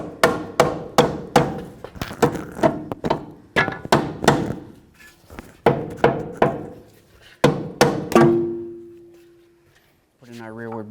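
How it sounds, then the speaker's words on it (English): A rubber mallet taps a lower control arm bushing into place on a 2007-2017 Jeep Compass: sharp, close thuds in quick irregular bursts of several blows with short pauses, followed by a brief tonal ring. "You might need a rubber mallet, give it a couple loving bonks"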